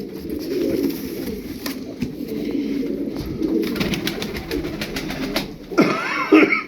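Pigeons coo steadily in low, soft murmurs, many birds at once in a coop, with a flutter and some higher bird sounds near the end.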